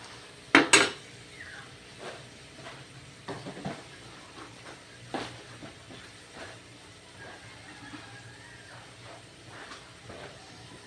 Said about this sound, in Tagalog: Ayan, halu-haluin lang po. And then, takpan muna natin siya.